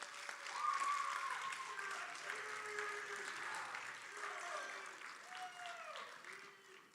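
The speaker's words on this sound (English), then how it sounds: "big round of applause for this group right here." An audience at a college signing day ceremony applauds a group, steady clapping heard moderately far away with faint background voices and murmurs mixed in.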